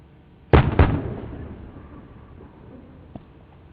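Military weapons fire and a target explosion: two sharp, close booms in quick succession, then a long rumbling decay and a faint distant pop near the end, no talk.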